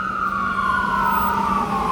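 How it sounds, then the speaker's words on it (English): A loud ambulance siren wails close by, its single drawn-out tone sliding steadily lower in pitch as it passes, with no voices. "when the ambulance going down there"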